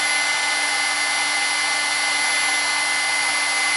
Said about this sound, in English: I'm going to use my heat tool really fast. It's not super loud, but it'll just take a minute.